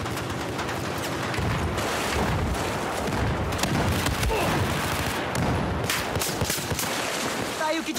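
Rapid gunfire and explosions from the video game Battlefield 4 crackle in dense, overlapping bursts, with booms and some player voices mixed in.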